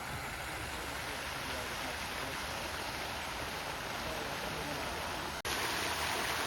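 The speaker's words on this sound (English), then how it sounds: "You can hear water, and there's a lovely little water feature" Steady running water from a small garden water feature beside a house, a constant close wash with no pauses, with a short break near the end.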